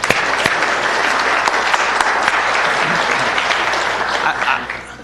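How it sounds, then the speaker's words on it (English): Sustained, loud applause from a room of attendees at a city council meeting, a dense steady clatter of clapping hands that holds for about four seconds, then begins to thin and fade. "Let's give them a big round of applause."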